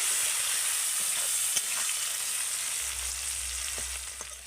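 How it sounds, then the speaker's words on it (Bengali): Chopped onions fry in oil with whole garam masala for an egg biryani, giving a steady, close hiss of sizzling with a few faint stirring taps. "এবার আমি দিয়ে দেব কুচিয়ে রাখা পেঁয়াজ পেঁয়াজটাকে আমি ভেজে নেব হালকা করে"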